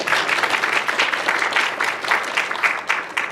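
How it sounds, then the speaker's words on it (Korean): Audience applause welcoming a speaker to a lecture on self-supervised speech representation learning, a short round of clapping at moderate level with a quick, uneven pulse of hands from a seated crowd. "뜨거운 박수로 맞이 부탁드립니다"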